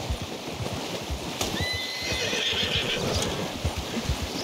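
A horse in Red Dead Redemption 2 lets out a drawn-out whinny near a stream, mid-loud over a steady rushing background with a few hoof clops, no talking.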